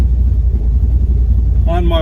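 Car engine rumbling steadily at low pitch while driving on the road after repairs, a continuous near drone, with brief voice-like tones rising in the final moments.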